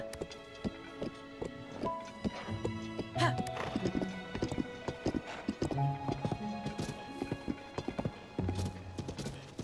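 Hooves clip-clop steadily while a large horse neighs and snorts in The Legend of Zelda: Tears of the Kingdom, with layered game tones and background sounds throughout.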